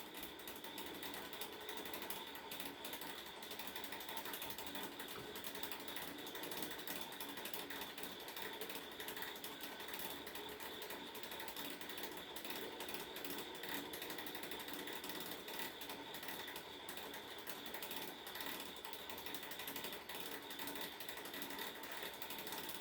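A hand ratchet clicks rapidly and continuously while snugging down a bolt during work on a 2009 to 2011 Chevrolet Aveo, a faint, even mechanical chatter with no talk.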